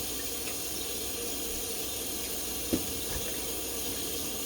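Food being rinsed under a running kitchen tap, a steady, even rush of water with a brief knock partway through, heard alone at moderate level.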